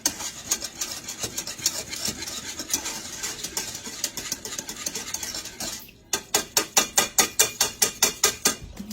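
A 3-ounce box of Jell-O mixture being beaten in a bowl: scraping, rasping stirring for several seconds, then a quick, even run of about a dozen sharp rhythmic strokes, close and fairly loud.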